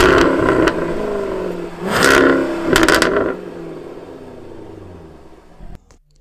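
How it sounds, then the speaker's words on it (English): A Jaguar F-Type sports car engine revs hard in loud, close bursts, with sharp pops and crackles breaking through between the surges before it settles and cuts off. "this car sounds wild"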